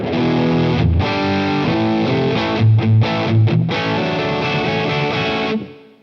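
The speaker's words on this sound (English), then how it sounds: "So what this effectively does is give you a nice thick fat distortion," Electric guitar played through a blend pedal mixing a clean amp with a chuggy distorted amp, giving a thick, fat distorted tone: loud sustained chords with a few brief palm-muted stops, ringing out and fading at the end.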